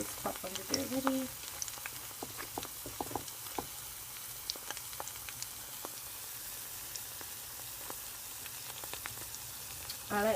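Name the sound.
onion bhajis frying and crisping in a pan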